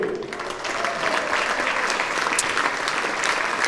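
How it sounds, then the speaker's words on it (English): A cricket crowd at Sophia Gardens applauds a batsman's milestone in a one-day cup match between Glamorgan and Kent Spitfires, sustained clapping with a faint voice mixed in. "A well-deserved round of applause as well."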